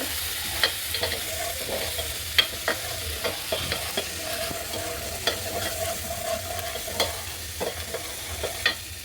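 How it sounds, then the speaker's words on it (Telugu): Onions, green chillies and ginger garlic paste fry in a pan over a wood-fired stove, a steady soft sizzle broken by scattered stirring clinks and scrapes of a spoon, fairly quiet and without talk. "అల్లం వెల్లిపాయ పేస్టు పచ్చిమిరపకాయలు ఉల్లిపాయలు అన్నీ వేగాయి"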